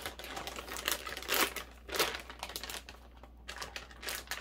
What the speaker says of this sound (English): take this tape off, open it.